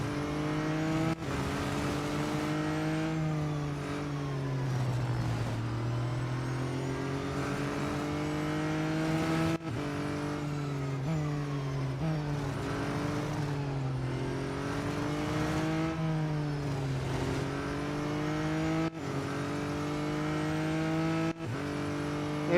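Race car engine in the video game Real Racing 3, loud and continuous throughout, with repeated rises and falls in pitch as the car accelerates and shifts, occasional sharp gear-change breaks, no talk.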